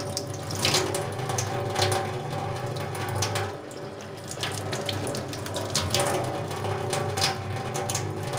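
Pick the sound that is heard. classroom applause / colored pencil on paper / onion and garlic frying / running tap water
running tap water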